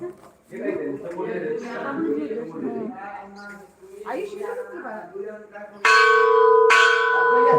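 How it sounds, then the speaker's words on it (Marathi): People talk, then a large bell at a Shani temple rings loudly twice near the end, each strike ringing out with a bright sustained tone. "बघा घंटा ही किती मोठ्यानं वाजते"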